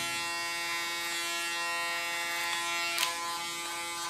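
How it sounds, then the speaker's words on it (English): An electric hair clipper cutting a short summer hairstyle, used as a comb through the hair, gives a steady, close mechanical buzz with a bright whine that holds even for the whole stretch, with only slight shifts as it moves. "And use my clipper as a comb."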